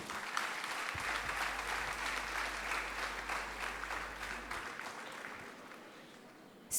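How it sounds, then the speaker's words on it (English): Steady applause fills the hall at a kindergarten and Montessori school annual day, a dense sustained clapping from the audience that holds for several seconds before tapering off. "Please give a big round of applause."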